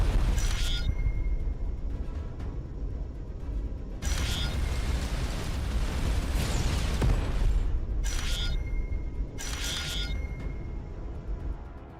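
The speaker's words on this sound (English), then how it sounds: "Something that octopus is shooting rockets at me" Rockets fired by an octopus enemy in a video game explode in loud, heavy booming bursts, with rumbling blasts rolling one into another over a dense, noisy background.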